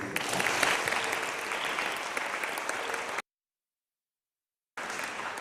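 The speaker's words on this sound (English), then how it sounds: "So I'd like to give Mrs. Farrow and all of our booster parents a round of applause too" A crowd at a middle school athletic awards ceremony gives a steady round of applause for the booster parents. The clapping cuts out abruptly for over a second of silence, then resumes just as dense.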